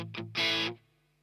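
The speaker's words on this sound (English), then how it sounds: "you can be on this distortion setting" Guitar played through a Chase Bliss and Analog Man Oh Brothers AM distortion pedal, giving two short picked notes followed by a louder, saturated fuzzy chord that cuts off after about half a second, alone with no talk.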